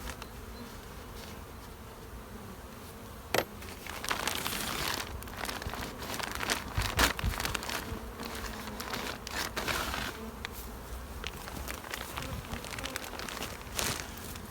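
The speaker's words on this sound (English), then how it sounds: "Bees here too." Bees swarm around a hive topped with a deep white super and a medium super, making a steady, dense buzzing that runs throughout, with close insects zipping past louder at moments and a faint crinkle or knock once.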